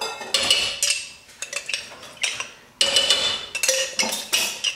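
A spoon stirs orange marmalade egg roll dipping sauce in a metal pot, with repeated clinking scrapes in uneven bursts and short pauses, close and fairly loud, and no talking.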